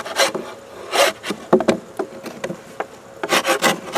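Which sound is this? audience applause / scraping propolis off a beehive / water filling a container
scraping propolis off a beehive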